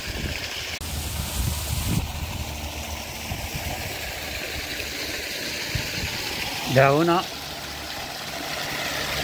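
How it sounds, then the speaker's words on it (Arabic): Flowing stream water out in nature, a steady broadband rush throughout, with a brief spoken word partway through. "نسمعوا لهذا صوت المياه،"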